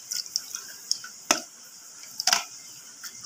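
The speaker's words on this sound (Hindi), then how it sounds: "ये मेरा गंदा पानी उसी में जा रहा है" Dirty rinse water drains off washed poppy seeds in a few scattered, quiet drips and small splashes, sparse and close, with no voices.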